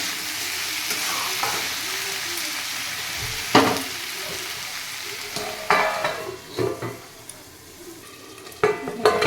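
Spices, potatoes and vegetables frying with fish head in a pan for a radish-leaf ghonto: a loud steady sizzle with bursts of stirring and scraping, close by, no talk.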